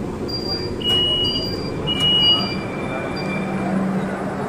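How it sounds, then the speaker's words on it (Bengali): A Kolkata metro train pulls into Sakher Bazar station on the Joka line with a constant low rumble, high wheel squeals and brief electronic tones over the running noise. "তো এবার কিন্তু শখের বাজার স্টেশন ঢুকে গেল ট্রেন"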